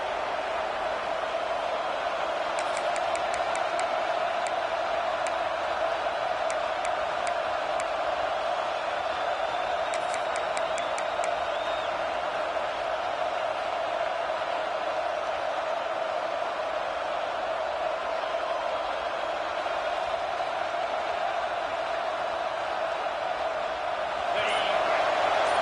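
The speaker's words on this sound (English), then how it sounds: "This crowd bringing an ear-splitting welcome to their visitors." A stadium crowd at a football game roars continuously, a loud, sustained wall of cheering that holds at a steady level from start to finish with only slight swells.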